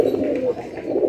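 Pigeons cooing on a rooftop, a steady overlapping murmur of soft low coos from several birds close by, continuous through the moment with faint chirps above.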